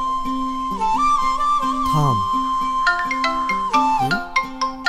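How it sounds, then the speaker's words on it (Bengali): A mobile phone ringtone plays a bright electronic melody of repeating chimes and sliding tones, loud and close, continuing for several seconds with no talking over it. "আমার ফোনে আবার কে ফোন করলো?"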